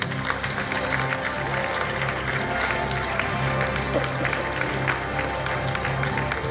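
Audience at the Kazan Islamic Clothes 2018 fashion festival applauds continuously, with dense mid-distance clapping over a steady low hum and music-like tones in the hall.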